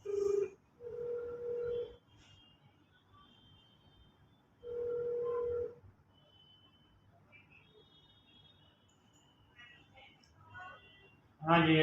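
Landline telephone keypad dialing, steady DTMF tones in a few long blocks with gaps between, loud and close, in a hospital-set drama.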